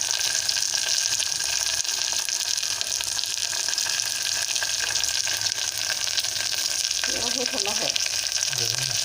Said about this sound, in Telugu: ఇప్పుడు పప్పు వేసేసుకున్నామండి తాలింపులోకి